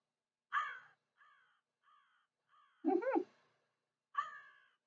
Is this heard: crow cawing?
yes